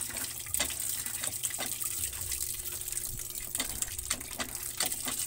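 Running water flows steadily from a tap during rinsing of laundry, a continuous close splashing gush with faint irregular drips and knocks, no voices.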